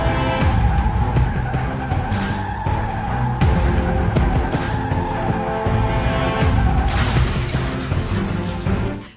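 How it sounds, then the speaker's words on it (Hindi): A car skids in an accident scene from an Indian TV drama, the screech buried under loud, dramatic background music that keeps playing throughout. "पाखी और विनायक की गाड़ी का एक्सीडेंट"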